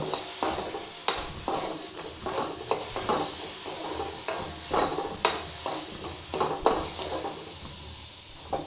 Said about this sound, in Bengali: এবার একটু নুন হলুদ দিয়ে একটু ভাজছি